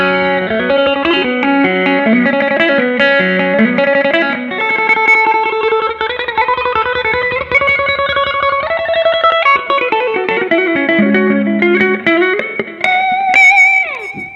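An electric guitar through a Mooer GE-250 phaser preset plays a flowing melodic line with a swirling, sweeping effect on the tone, steady and loud with no talking.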